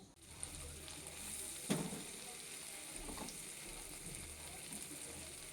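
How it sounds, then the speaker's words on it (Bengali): Fish rubbed with salt and turmeric frying in a wok, a soft, continuous sizzle with a few sharp spatter pops and light stirring. "দেখো মাছগুলোকে কড়াইতে একটু ভেজে নিলাম"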